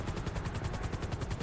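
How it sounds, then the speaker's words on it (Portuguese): A helicopter in the GTA V video game, its rotor beating in a fast, even chop that stays loud and close the whole time, with no talking over it. "vai dizer que esse helicóptero é seu"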